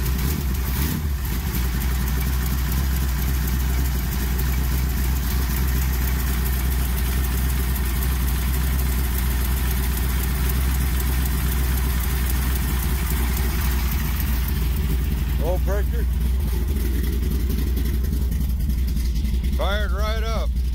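A stroker big-block V8 in a 1973 Plymouth Satellite idles steadily after a cold start, with a deep, rumbling low throb throughout, loud and close, with brief voices near the end.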